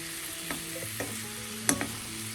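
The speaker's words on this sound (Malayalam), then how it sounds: "മധുരക്കിഴങ്ങെല്ലാം നല്ലതുപോലെ ഇളക്കി" Sweet potato masala fry being stirred in a pan over low flame, a quiet steady sizzle with a few soft spoon scrapes and taps, close but faint, no talking.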